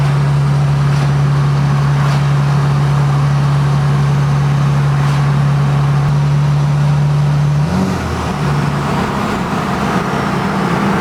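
A 2005 Dodge pickup with a 5.9 Cummins diesel and a newly fitted turbo drives along, giving a loud, steady engine drone with a sustained tone that drops and changes near the end.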